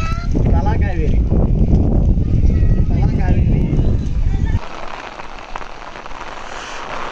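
Rain falls on a foggy hillside at Talakaveri as a dense, continuous patter with wind. Voices talk over it through most of the stretch, and the rain continues more softly after they stop.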